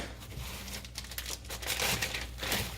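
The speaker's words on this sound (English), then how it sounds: "And I'm going to now cut open this bag." Plastic bag of raw cat food being cut open over a trash bag in a sink, heard up close as continuous crinkling and rustling of plastic with a few sharper snips and tears, no talking.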